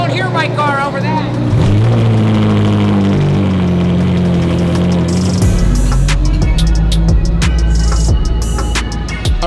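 A loud car engine revs, rising and falling in pitch before a deeper, rougher roar takes over, heard close and mixed with some voices.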